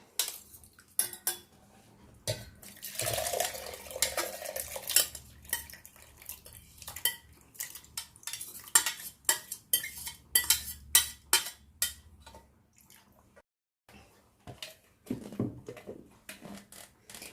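A spoon scrapes cooked onion out of a pan into a mixer jar: irregular metallic clinks, taps and scraping strokes, fairly quiet and close, with brief pauses between bursts and no talk.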